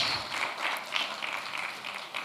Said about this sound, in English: Please, a round of applause for our 40 semi-finalists.